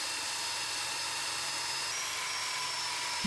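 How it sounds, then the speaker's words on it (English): A drill bores a hole through a template on a workshop job, giving a steady high whine with a constant buzzing hiss at close range for a few seconds. "Drilling the hole literally took probably 15 seconds"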